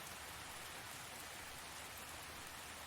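Gentle rain patters steadily on a cabin roof and walls, a soft, even hiss of many small drops that stays quiet and unbroken throughout, with no voices.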